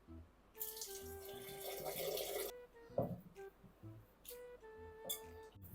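Water pours into semolina flour dough for pani puri, a steady close splash lasting about two seconds, followed by quieter trickles and handling sounds in a home kitchen.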